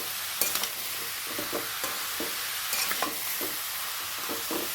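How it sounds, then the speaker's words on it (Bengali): Bottle gourd is sautéed with turmeric, salt and spices in a pan, a continuous close sizzle punctuated by frequent stirring scrapes and taps at an irregular rhythm. "এবার আমি লাউটা একটু মশলাগুলোর সঙ্গে কষিয়ে নেব।"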